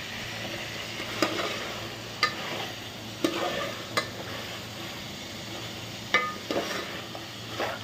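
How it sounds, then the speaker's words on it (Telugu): Chicken frying in oil is stirred with a ladle in a pan, a soft continuous sizzle broken by about seven distinct scrapes and knocks of the ladle against the metal. "అలా ఆయిల్ కొంచెం అడుగంటకుండా ఉండడానికి అలా గెలతో మిక్స్ చేస్తున్నాను"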